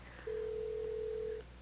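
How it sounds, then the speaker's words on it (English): A single electronic telephone ring tone sounds once, a steady pure tone lasting about a second, fairly quiet and with no voices. "Come on, Todd. Answer the phone."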